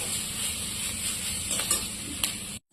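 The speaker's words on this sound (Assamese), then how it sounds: "এনেদৰে আকৌ এবাৰ লৰাই দিম ঢাকোন আঁতৰাই।" Chopped banana flower cooks in a pan on low flame as it is stirred, producing a steady sizzling hiss with a few scraping clicks from the utensil before the sound cuts out.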